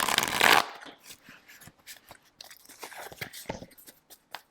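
Tarot cards shuffled by hand: a dense burst of riffling at the start, then lighter, scattered taps and card flicks continuing close up with no talk.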